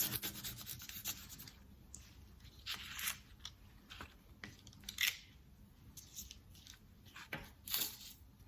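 Crayon rubbed hard over a leaf laid under paper, a soft dry scratchy rasp in uneven back-and-forth strokes, close and faint, with no talking.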